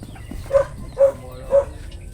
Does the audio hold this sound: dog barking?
yes